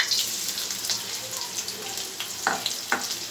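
Chopped onion and green chili frying in hot mustard oil in a pan, a steady close sizzle with occasional stirring scrapes, no voices.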